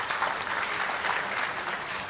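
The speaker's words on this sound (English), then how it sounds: "So one round of applause for these two." A short, steady burst of audience applause at a corporate HR masterclass in India, even clapping from a room of people throughout.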